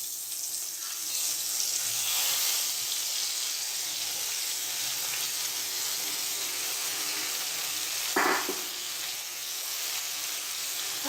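Steady sizzle of spices frying in a pan with potato and chickpea paste for chikar cholay, a continuous hiss with a brief clatter near the end, no talking.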